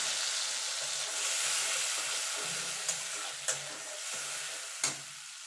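Ground poppy seed paste sizzles as it is added to a frying pan with a black cumin and dried chilli tempering, with a steady hiss and a few sharp scraping stirs of a spatula.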